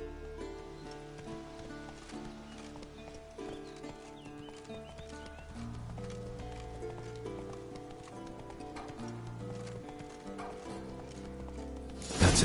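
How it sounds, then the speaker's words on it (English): A horse in The Witcher 3 moves with rhythmic hoof clip-clops under a steady layer of game music, sitting at a moderate level, with a brief louder burst at the very end. "That's his horse."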